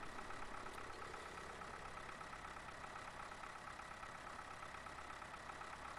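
A beaten-up feeding tractor in Farming Simulator 15 idles with a steady, faint mechanical drone that holds an even level throughout.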